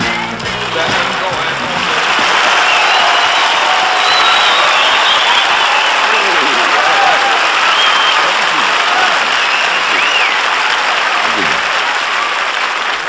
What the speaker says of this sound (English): That was a very, very happy crowd. You know, the applause was deafening